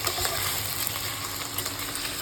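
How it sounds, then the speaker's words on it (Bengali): Mixed vegetables such as cauliflower, potato, tomato and peas sizzle steadily in a kadai as spices are stirred through them, a continuous close frying hiss without voices. "সবজির সাথে মশলাটা মিক্স করছো"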